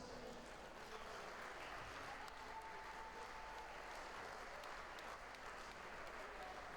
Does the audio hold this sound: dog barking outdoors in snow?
no